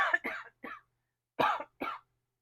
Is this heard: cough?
yes